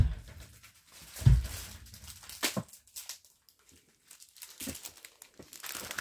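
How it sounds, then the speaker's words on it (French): Hands rummage through a stash of ribbons from the Action store, producing bursts of crinkling and rustling packaging that rise and fall irregularly, close to the microphone with quiet pauses between handfuls. "je vais regarder dans mes rubans."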